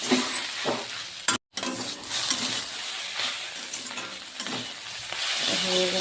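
Chow mein seasoned with black pepper is stirred and fried in a pan, giving a soft, continuous sizzle with scraping stirs and a brief silent gap, no talking.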